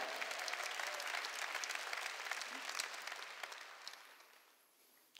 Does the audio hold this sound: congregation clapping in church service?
yes